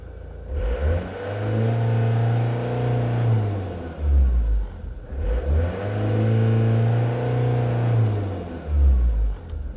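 A car engine being revved twice in two similar cycles, rising to a roaring hold and then dropping back, with the revs sagging rather than staying up; the vehicle has an oil pump problem, a leaking rear heater pipe and a transmission that won't select drive.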